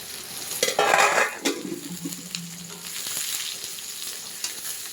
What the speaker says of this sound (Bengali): এবার মা ঝিঙেটা দিয়ে দিল।